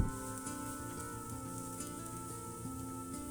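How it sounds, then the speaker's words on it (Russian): A soft, steady sizzle of onion stewing gently in olive oil in a pan, with quiet music playing throughout. "И тушим лук."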